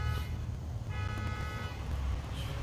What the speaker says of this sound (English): You don't even hear the car horns anymore.